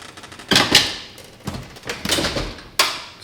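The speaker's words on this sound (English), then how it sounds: "Okay, when you open the door and you shut it," Hotel suite door in a Shades of Green room swung open and shut, loose hardware rattling; several loud, sharp wooden bangs and clatters close by, spaced across a few seconds, no talk.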